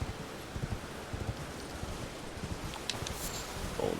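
Horse galloping in the video game Elden Ring, a steady stream of rapid hoof clip-clops running at a constant moderate level, with a brief rustling burst near the end.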